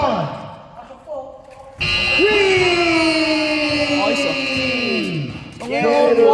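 A basketball game buzzer blares for several seconds on a buzzer-beater, its tone sliding downward, over a roaring crowd and excited shouting.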